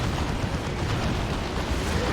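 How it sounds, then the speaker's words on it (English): Plasma cannon fire in the strategy game Warhammer 40,000: Dawn of War 2 gives a dense, rumbling explosive roar that stays steady and loud throughout, with no talk over it. "Decent plasma cannon shot."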